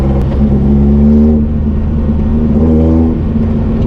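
Loud, steady engine drone from a rebuilt Toyota Hilux pickup while driving, a low humming rumble that rises and eases slightly with the throttle, heard up close inside the cab.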